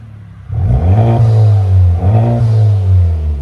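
A car's aftermarket turbocharged exhaust revs hard twice in quick succession, each a loud, deep, throaty roar that swells and falls back to a rumbling idle, close up with no talking.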